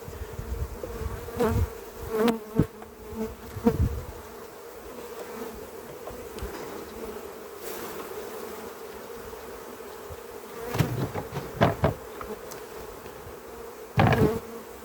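Honeybees drone steadily close by at an open hive during a spring inspection, with several sharp knocks and clatters breaking through now and then.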